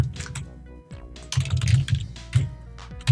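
Someone types on a computer keyboard, a quick close run of clicky keystrokes in bursts with brief pauses between them.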